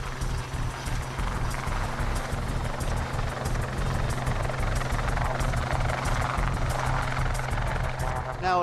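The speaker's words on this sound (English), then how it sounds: "The takeoff is watched anxiously by one of the squadron's instructors." A naval squadron helicopter lifts off from a ship's deck with a loud, constant rotor thump and turbine roar, heavy and close throughout.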